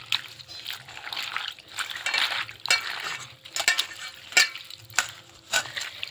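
Helencha leafy greens washed by hand in clean water, splashing and sloshing in bursts with dripping, close, no talking.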